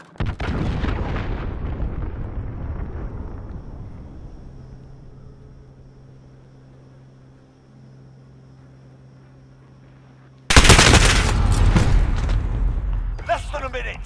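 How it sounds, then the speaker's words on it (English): In Call of Duty Modern Warfare, a cruise missile strike hits with a loud explosion that rumbles and fades over several seconds, then a second heavy blast erupts, with game voices over it. "Allied cruise missile away."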